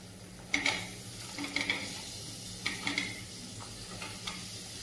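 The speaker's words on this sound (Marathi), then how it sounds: "मी आधी भेंडी परतून घेत आहे थोडीशी." Okra and mixed vegetables, cooked without onion or garlic, sizzle steadily in a pan while a spoon stirs them in intermittent scraping strokes, close and moderately quiet with no talk.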